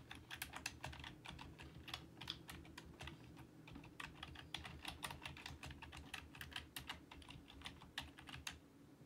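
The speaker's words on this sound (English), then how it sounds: "you are a very slow typer" Fingers tap on a computer keyboard in a steady run of quiet, close keystrokes with uneven pacing and short pauses, over a faint low room hum.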